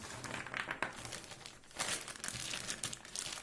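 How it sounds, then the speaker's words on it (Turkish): Plastic zip-lock bags holding prepared beef meatballs for the freezer are handled up close, giving continuous crinkling and rustling with sharper crackles throughout. "Ağızları kilitli poşetlerimiz hem yer kaplamıyor."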